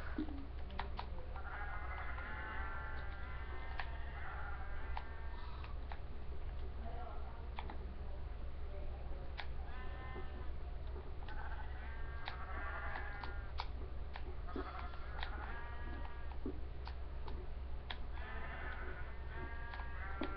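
Sheep in the video game Minecraft bleat repeatedly in short bursts over a steady low hum and a continuous patter of keyboard and mouse clicks.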